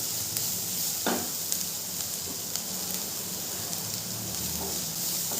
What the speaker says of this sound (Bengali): খুব ভালো করে আদা পেঁয়াজ রসুন কষিয়ে নেব।